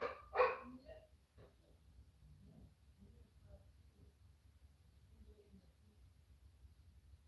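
A household dog barks once loudly nearby, then gives fainter yips and whimpers as people try to calm it, with low background noise and scattered muffled voices.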